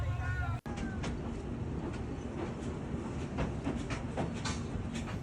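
Shan train running between Thazi and Taunggyi, a steady rumbling ride with repeated rail clicks and rattles throughout, heard close from on board.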